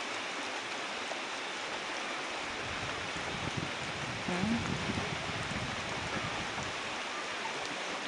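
Rain falls steadily on a Ugandan village, a soft continuous hiss of drops on surfaces heard from close by, even and fairly faint throughout, with no voices.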